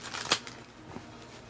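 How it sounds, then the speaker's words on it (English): A deck of cards being shuffled up close: a quick riffle burst with a sharp peak, then softer papery rustles, fairly quiet with no talking. "I'm shuffling"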